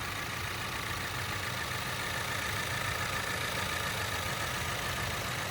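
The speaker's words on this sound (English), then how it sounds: "nice and smooth running engine, no odd noises or vibrations" A 2018 Ford Explorer Sport's 400 hp twin-turbo V6 idles smoothly and evenly, a steady low hum with no breaks, heard up close without any talking.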